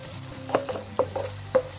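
Food seasoned with salt and black pepper being stirred in a frying pan during a zucchini and egg recipe, a quiet sizzle with a few scraping knocks from the spoon.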